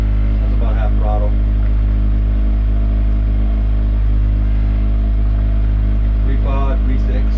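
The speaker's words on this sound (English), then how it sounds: "We're doing 3 miles per hour, half throttle." Houseboat outboard motor running steadily at half throttle, a constant low droning hum with mechanical whine throughout, with brief talk near the start and end.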